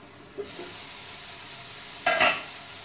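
Pumpkin sabzi with groundnuts cooking in a pan on a low flame: a soft, steady sizzle with a light stir early on and a short, louder scrape of a spoon against the pan near the end.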